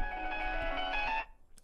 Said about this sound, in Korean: 한번 전화해볼까요?